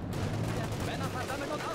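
Gunfire in the World War II strategy game Company of Heroes 2, Ardennes setting: a dense, continuous wash of distant rifle and machine-gun fire with battle rumble, fairly quiet throughout.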